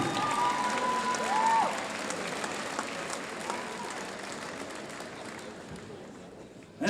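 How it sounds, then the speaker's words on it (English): Crowd applause in a high school gym at a varsity basketball game honoring the 2020 Sweetheart royalty, a broad steady clapping wash with some cheering that gradually thins out. "Let's give a round of applause for all of the 2020 Sweetheart royalty."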